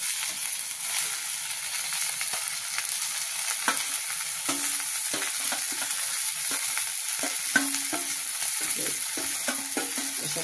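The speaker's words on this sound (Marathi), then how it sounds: "आता आपण यामध्ये चिगळाची भाजी टाकूया।" Chigal leaf greens stir-fry in a hot pan with a constant close sizzle and hiss, broken by scraping and clinking from a spatula as the leaves are tossed.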